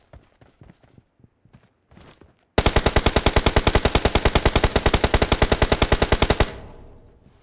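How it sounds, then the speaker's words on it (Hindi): Gunfire in a squad match of an online shooter game: a few scattered single shots, then a loud sustained automatic burst of rapid, evenly spaced rounds for about four seconds, fading into a short echo. "अरे बहुत गोलियां है, वेस्टेज कर रहा हूं ये देखो।"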